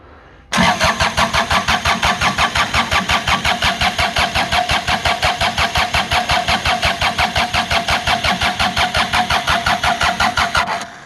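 A Kubota machine engine fires up and runs close by with a loud, rapid, evenly pulsing chug that holds steady for about ten seconds before cutting off.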